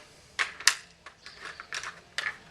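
An empty AK-47 magazine is quickly swapped in a series of sharp metallic clicks and clacks, several distinct snaps spaced irregularly and heard close up without speech.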